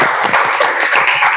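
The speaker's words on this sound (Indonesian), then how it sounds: "tepuk tangan untuk kelompok" A classroom group in a micro-teaching session gives a brief, close burst of many hands clapping.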